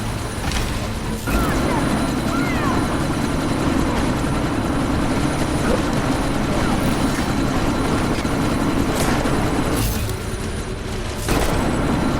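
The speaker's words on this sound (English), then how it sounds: "That chopper's about to take off!" Helicopter rotor and engine roar in the video game Deus Ex: Mankind Divided as the chopper prepares to take off, a loud steady drone dominating throughout with brief sharp bursts layered in and faint voices underneath.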